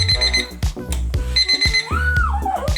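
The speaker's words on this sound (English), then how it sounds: "could you have stayed in bed with that alarm going off?" A Ruggie alarm clock rug going off, a loud, insistent electronic alarm of repeating beeping tones with a rising and falling warble, close and alone.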